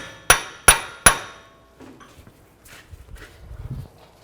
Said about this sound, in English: Now you can just take a punch and a hammer. Just tap this in a little bit.